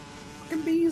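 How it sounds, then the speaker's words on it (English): Bees swarm in Metal Gear Solid 3, with a short, faint buzzing tone rising near the end over a quiet game background. "Fucking bees again!"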